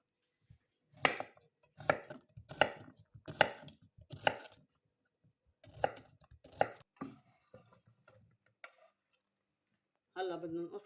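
Cucumber being chopped with a knife on a board for a Lebanese fattoush salad: close, crisp strikes in quick bursts of roughly a dozen cuts, with pauses between them and a voice speaking briefly at the end.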